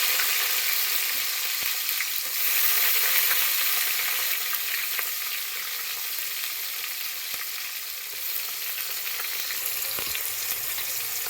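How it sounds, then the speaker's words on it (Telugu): Chopped onions fry with mustard seeds and cumin in a pan, giving a loud, continuous close-up sizzle with faint stirring scrapes throughout and no talking. "ఆనియన్ కొంచెం బ్రౌన్ కలర్ వచ్చేంత వరకు వేయించుకోవాలి"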